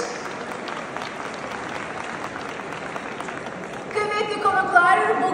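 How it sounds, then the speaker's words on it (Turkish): A gala audience at an Artaş Holding evening breaks into steady applause, a dense clapping wash that continues as a voice begins speaking over it. "Vadi İstanbul projemiz için de kocaman Saklı Vadi projemiz için de kocaman bir alkış"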